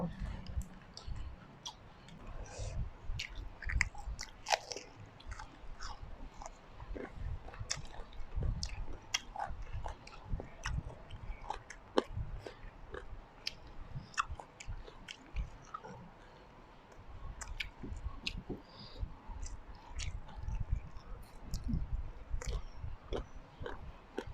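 Close, wet chewing and biting sounds repeat irregularly while someone eats sticky rice with a blanched-vegetable and giant water bug chili dip, with small clicks and mouth noises throughout and no talk.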